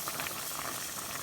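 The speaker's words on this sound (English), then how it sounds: "In the other pan, I've got a sausage going, if you can hear that sizzling." Faint, steady crackling sizzle of a chicken sausage frying in a pan, a soft hissing patter with no voices.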